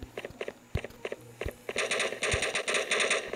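Gunfire in the multiplayer shooter Standoff, starting as scattered single shots and then building into rapid automatic bursts, close and crisp.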